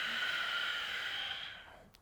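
A yoga practitioner breathes steadily during a twist, a sustained close airy breath that holds for a moment before fading, with a faint tap right at the end.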